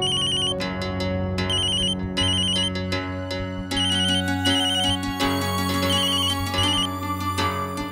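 A mobile phone rings with a bright, repeating electronic ringtone melody. It is loud and close, plays for several bars without a break, and no one speaks over it.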